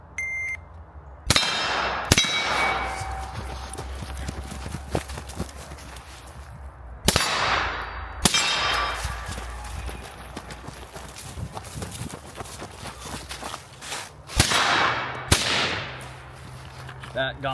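Rifle shots ring a steel gong target at a range, each sharp crack followed by a bright metallic clang and a ringing tone as the plate swings; several hits spaced a few seconds apart, with quiet talk between.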